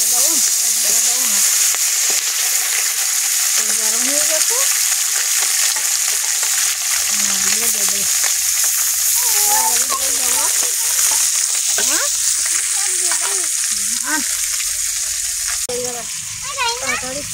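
Parshe fish being added to hot oil: a loud, steady frying sizzle continues throughout, with a voice speaking intermittently over it.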